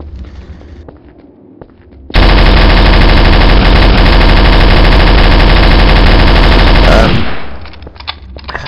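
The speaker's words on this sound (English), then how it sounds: "The main tactic with machine gun is to jump around a lot and to go left and right." A machine gun in Counter-Strike: Source fires one loud continuous burst lasting about five seconds, with the sustained rapid fire cutting off abruptly and a short decay trailing after it.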